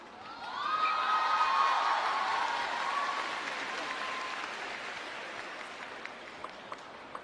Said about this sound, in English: I also hope that some of those applause are directed at Patrick FRANZISKA.